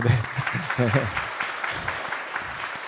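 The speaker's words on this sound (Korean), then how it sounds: "첫 오프닝으로 박수 감사합니다." Audience applause at a school admission briefing in a hall, a burst of clapping mixed with some talk and crowd noise, moderately loud at first and then tapering off.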